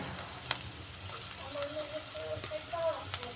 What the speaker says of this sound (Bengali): আদা কুচিটা দিয়ে একটু ভেজে নিচ্ছি।